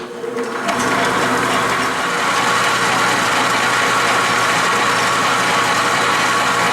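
A metal lathe in back gear, with slow automatic cross feed, drives a homemade cut-off tool into metal. It makes a loud, steady mechanical drone and grinding hum that starts suddenly and keeps a constant level throughout.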